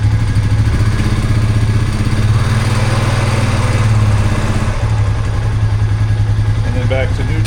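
A 2005 Honda Rancher TRX400FA ATV engine runs steadily at low speed as the quad creeps forward a few feet, a continuous near rumble with some clatter that eases slightly toward the end.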